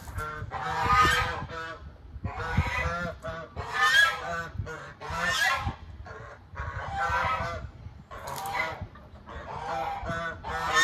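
A flock of geese honking loudly in repeated bursts, their calls overlapping with brief pauses between, close by and outdoors.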